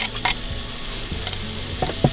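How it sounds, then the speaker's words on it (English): Garlic and onions sizzling in a pan on a camping stove in a snowy winter tent, a close steady fry crackle with a few scraping stirs of the pan. "I'm going to throw in the garlic now as well, seeing as the onions have been sweating off for a little while"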